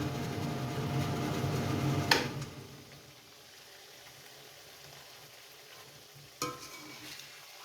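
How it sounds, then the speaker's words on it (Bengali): Spice paste for fish paturi sizzles and fries in oil in a pan while being stirred. A steady close sizzle runs throughout, with two sharp clanks of the utensil, one early and one late, and no talking. "মশলাটাকে আমি ভালোভাবে কষিয়ে নিয়েছি। তেলটা একদম উপরে চলে এসেছে।"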